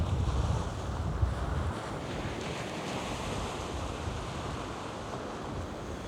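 Steady wind gusting across the seashore at Bexhill on an easterly breeze, a continuous broadband rush with low rumbling buffets on the microphone at first, then settling into an even, unbroken roar with no voices.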